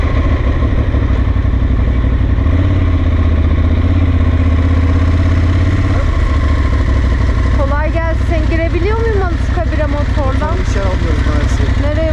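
A motorcycle engine idles steadily with a low, even rumble throughout at Anıtkabir in Ankara, while a person talks over it in the second half.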